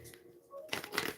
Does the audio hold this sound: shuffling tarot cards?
yes